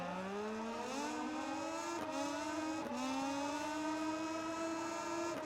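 Moto2 motorcycle engines in MotoGP 19 racing game, a steady high whine that climbs in pitch through each gear, with brief dips at two shifts, loud and continuous with no talk.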